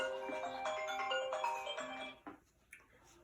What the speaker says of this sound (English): Pardon me, that was a phone call on my cell phone.